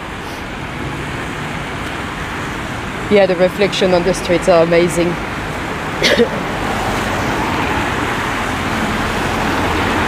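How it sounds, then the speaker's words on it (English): Steady roar of cars on a busy, noisy road in Stoke Newington, London, a continuous wash of passing traffic with people talking briefly over it. "Because it's a very noisy road."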